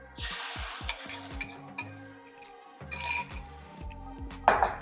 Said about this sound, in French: on mélange parce que c'est des œufs brouillés